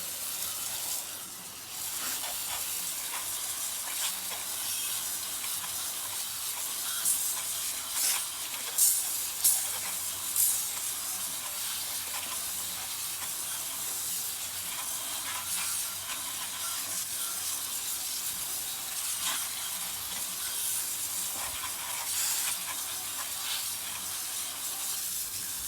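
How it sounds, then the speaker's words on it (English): Water sprays steadily over the reel of a Toro Greensmaster 1000 greens mower, a continuous hissing wash that runs the whole time with a few brief louder splashes partway through and no talking. "And you wash off the reel."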